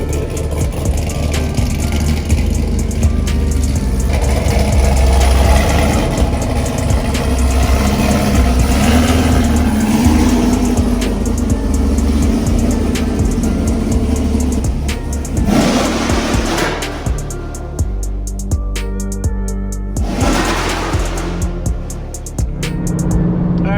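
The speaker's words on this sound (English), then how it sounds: "He's moving in the Camaro right now" A Chevrolet Camaro engine idles and blips its throttle close by while being driven slowly into a parking spot, with a steady rumble and a few short revs toward the end.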